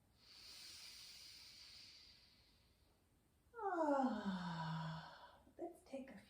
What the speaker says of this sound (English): Let's make a big exhale together.